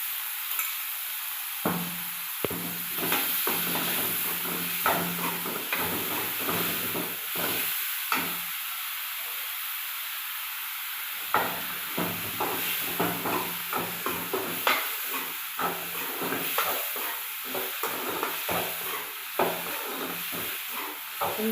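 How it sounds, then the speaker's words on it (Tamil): Ginger garlic paste sizzles steadily in a hot pan while a spoon stirs and scrapes it in frequent short strokes, the frying hiss loud and continuous close by, with no talking. "இப்போ நம்ம அரைச்சி வச்சுருக்க இஞ்சி பூண்டு பேஸ்ட்டையும் இப்போ நம்ம சேர்த்துக்கலாம் அதுக்கு."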